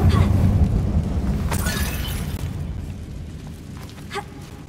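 Confringo fire spell detonates in a closed mine in Hogwarts Legacy, a loud booming blast with a shattering burst that rolls into a long rumbling decay, followed by a few scattered debris crackles.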